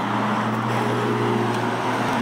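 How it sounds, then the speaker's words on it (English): A BMW M3 drives past down the road below, a steady moderate engine hum with a faint whine running for a couple of seconds amid outdoor traffic ambience. "Look, you see that BMW M3 going down there?"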